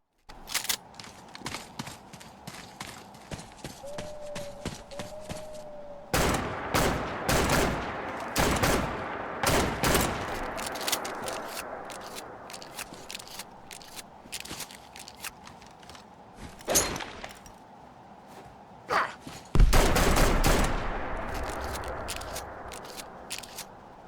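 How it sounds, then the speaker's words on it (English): Benelli M2 shotgun firing in Fallout 4, a run of loud, sharp blasts spaced irregularly through the clip with mechanical clicks and handling sounds between shots; no talking. "the Benelli M2 is an awesome shotgun to have out in the wasteland, and it's very satisfying to use"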